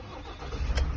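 Ford Transit Custom MS-RT van engine cold-starting, a short loud burst of cranking and catching near the end over a steady low rumble, close by.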